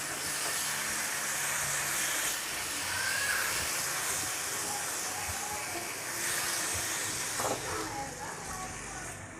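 Marinated chicken hisses and sizzles steadily as it fries in an oiled, preheated pan for shawarma, a broad, close frying sound that rises a little in the middle.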